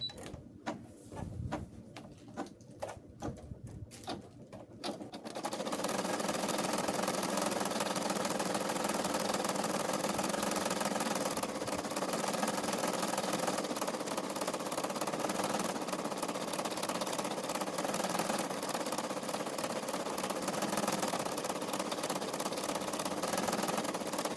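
An embroidery machine stitches the joint reinforcement on a cloth doll, a continuous rapid whirring and tapping that begins after a few seconds of quiet and keeps a steady pace to the end.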